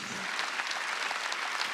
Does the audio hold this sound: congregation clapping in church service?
yes